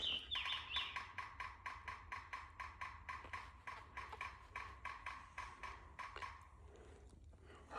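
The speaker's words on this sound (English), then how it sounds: "Drummer woodpecker" Rapid, regular tapping knocks repeat in a steady series, like a woodpecker drumming on wood, fairly close, with a brief bird call near the start.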